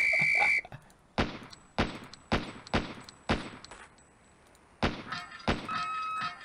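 Sharp gunshots from a Police Quest: SWAT video game pistol drill at five steel pepper popper targets, about eight spaced cracks with brief echoing tails, bracketed by short electronic tones at the start and end.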